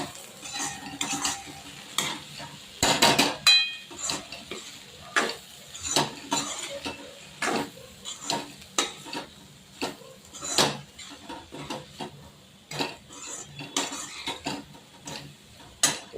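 A spoon scrapes and clinks around a bowl while sugar and other ingredients are mixed for lili choli ghughra, giving irregular taps and scrapes in quick bursts, close and fairly quiet against a near-silent background.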